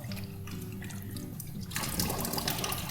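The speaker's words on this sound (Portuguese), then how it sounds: "A gente vai umedecer as mãos." Tap water runs and splashes as hands are wetted before folding a naturally leavened bread dough; quiet running at first, then a louder, fuller gush of water hitting hands and sink, with no talking.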